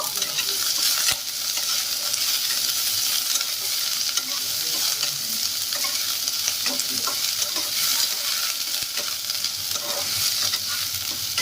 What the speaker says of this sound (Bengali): তো পেঁয়াজ কুচিটাকে আমি দিয়ে দিচ্ছি আর একটু ভালোভাবে ভেজে নেব